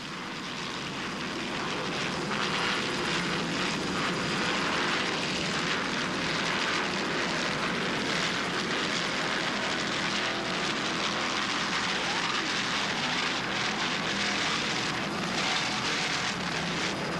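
Offshore racing powerboats run at full throttle on bumpy, overcast Key West waters during a 1995 world championship race, a loud, steady roar of engines that stays constant and close throughout without pause.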